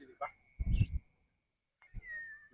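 A cat meows in an abandoned building, a short faint cry followed by a louder meow, with quiet voices around it.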